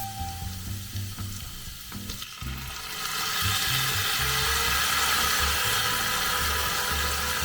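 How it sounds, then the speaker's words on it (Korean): Onion and rice sautéing in oil for risotto, starting with spoon scrapes and stirring knocks. Then a loud, steady sizzle swells and holds close to the pan, with no voices. "양파가 투명해지면 쌀을 넣고 마찬가지로 투명해질 때까지 볶아주세요"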